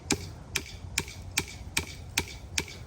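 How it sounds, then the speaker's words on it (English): A hammer drives a staple into hand-pulled fence wire with seven sharp, evenly spaced strikes about every half second, close and crisp over a quiet outdoor background. "And then I'm going to drive me a staple like this, using my body to hold the hammer, making sure I don't loosen it."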